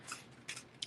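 Scissors snip through a piece of card at a crafting table, three short quiet cuts in quick succession.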